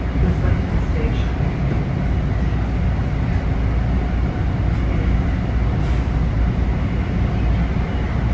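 Toronto subway Line 2 train arriving at Islington Station, a steady loud rumble of wheels and motors heard from inside the cab, with no distinct braking peaks.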